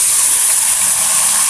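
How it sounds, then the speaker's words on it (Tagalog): Chicken sautéing in a hot pan gives a loud, steady, close hiss of sizzling with no breaks and no talking. "Gigisa ko mabuti ulit ang ating chicken."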